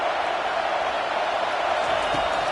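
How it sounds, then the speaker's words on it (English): A big stadium crowd at a college football game roars steadily as the defense takes the field, a dense sustained wash of noise with no break. "It is getting loud as this crowd tries to help its defense."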